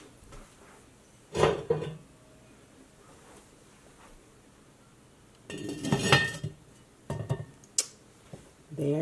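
A metal lid set onto a pot of sausage, potato and kale soup on the stove, with a couple of loud clanks and clinks of metal and glass, then further rattling a few seconds later.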